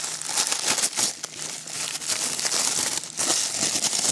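Strong packing tape on a parcel being pulled and wrestled with makes continuous close crinkling and crackling with small tearing rasps, fairly loud and without pause.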